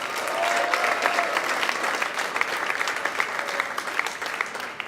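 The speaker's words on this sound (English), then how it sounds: "give your parents a round of applause for all that they do" An awards show audience applauds steadily, a dense patter of many hands clapping at even volume for several seconds.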